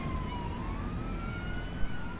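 A police car siren in Vivat Slovakia, a steady wailing tone slowly rising and falling over a rumbling engine and road noise, heard alone without talk.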